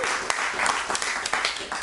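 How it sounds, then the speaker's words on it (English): Audience applause at a talk on the Zapatistas of Chiapas, Mexico, a steady wash of many hands clapping through the whole stretch, fairly loud and close, with no speech over it. "Please, I would urge you not to applaud"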